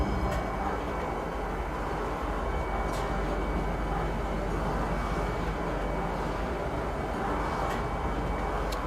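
Train noise from the Metro riding simulator video game, a continuous low rumble and rolling drone with faint higher clicks, steady throughout.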